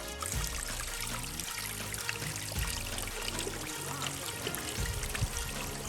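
Water from a hillside spring trickles and splashes steadily close by, a continuous bubbling flow with no voices.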